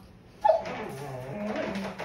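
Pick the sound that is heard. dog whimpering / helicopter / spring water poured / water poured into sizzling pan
dog whimpering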